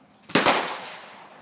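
A single sharp, loud crack from an AR-15 rifle fitted with a CMMG .22lr conversion kit, fired outdoors, with a short echoing tail fading over about a second.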